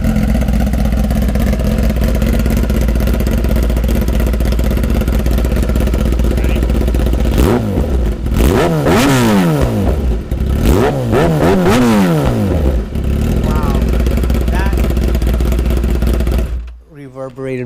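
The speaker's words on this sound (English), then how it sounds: "this is the exhaust all hooked up, ready to go" A 2016 Kawasaki ZX-10R with an SC-Project S1 aftermarket exhaust idles with a deep, throaty note, then revs hard several times in quick bursts before settling back to idle and cutting off.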